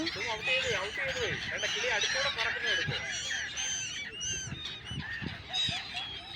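A flock of geese honks near water, with loud, overlapping calls close by that continue throughout, and muffled voices sit underneath the birds.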